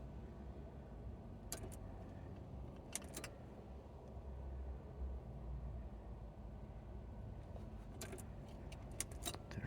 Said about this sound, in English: Let me prime the pump actually. Fuel pump a couple times.